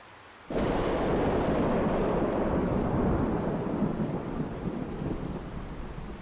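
Rain and thunder in a video game: after a brief quiet moment a loud crack of thunder breaks into a long rolling rumble over heavy steady rain, slowly easing while the downpour continues.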